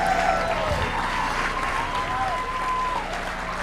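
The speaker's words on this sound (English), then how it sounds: "we could do a better round of applause for Pedro Noguera" Sustained clapping from a conference audience fills the room, dense and continuous with some crowd murmur underneath and a faint whistle-like tone drifting through.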